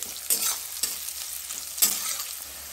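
Chopped onions frying in a pan, a steady soft sizzle broken by three sharp scraping stirs, close and alone without speech.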